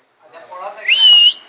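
A pet parrot whistles indoors, a bright sliding whistle that swells in the second half and holds steady before cutting off, with softer chirpy vocal sounds before it and a faint steady hiss throughout.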